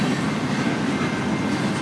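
Train rolling past at a level crossing in Chatham, Ontario, Canada: a loud, steady, close rumble of wheels and cars with a continuous rattling roar throughout and no speech.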